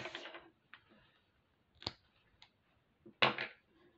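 Scissors snipping a piece of white cord while making mesh pearl bracelets, giving a few sharp close crisp cuts with quiet gaps between them, including a louder final snip, with no voice.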